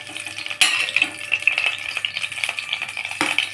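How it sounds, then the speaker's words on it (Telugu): Masala goes into hot oil in a pan and sizzles nearby, with a sharp burst at the start, a second burst later, and stirring scrapes in between. "ఆయిల్ వేసుకొని బాగా హీట్ అయిన తర్వాత మసాలా కొంచెం తక్కువ వేసుకోండి"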